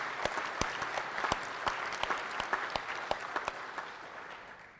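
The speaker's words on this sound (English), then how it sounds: "So just big round of applause for her." Applause from an audience at an Army garrison change of command ceremony, a steady wash of clapping with a few sharp, distinct claps standing out, moderately near and without talk.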